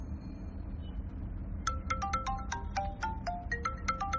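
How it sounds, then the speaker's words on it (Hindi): Mobile phone ringtone of bright, rhythmic electronic tones, starting partway through and repeating steadily over a low rumbling background. "कार्तिक तुम्हारा भी फोन बज रहा है।"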